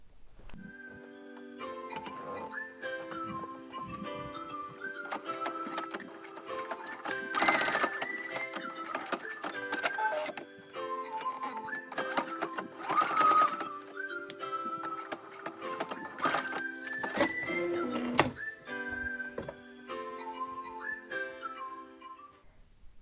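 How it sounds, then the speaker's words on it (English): A sewing machine runs steadily, stitching over existing top stitching on a fabric wallet, its motor whirring with a rhythmic ticking needle beat that speeds up and pauses between bursts, close and with no speech. "we're going to sew right over the top stitching that already exists, back stitching at the beginning and end to the mark"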